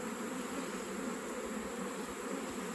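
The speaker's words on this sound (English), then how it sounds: "we've got a couple bees airborne." Honey bees flying around a beehive during a hive check, a steady close buzzing drone that holds evenly through the whole stretch with no voices.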